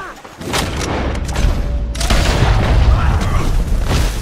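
Gunfire in the video game Red Dead Redemption II, with loud, dense booming shots overlapping in a continuous barrage.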